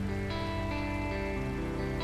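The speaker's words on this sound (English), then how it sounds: "I like the light rain, it's quite nice." Light rain falls steadily in the SnowRunner video game, a soft continuous patter over a low engine-like hum and tonal game sounds throughout.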